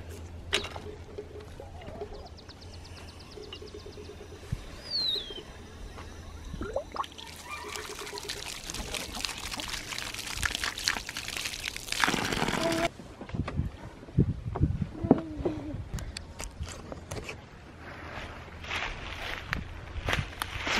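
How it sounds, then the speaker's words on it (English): Water pours over hands outdoors on a homestead during a foraging outing, intermittent splashes and trickles that build to a long, louder pour midway, with footsteps and rustling nearby and no talking. "Okay, let's get our hands washed."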